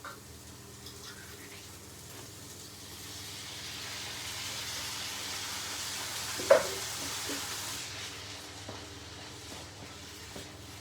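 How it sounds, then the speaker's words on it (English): A full tin of tomatoes hits a hot pan for a chickpea curry, raising a steady broadband sizzle that builds over several seconds, with one sharp clack partway through and no voices. "heat up this pan, going in with a full tin of tomatoes"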